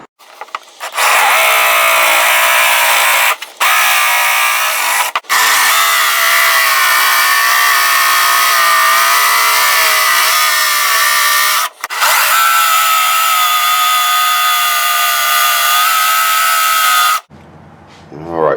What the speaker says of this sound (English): now it's time to get back to work, and just got more holes to drill